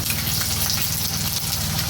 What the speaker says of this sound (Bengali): এবার আমি দেব আদা রসুন বাটা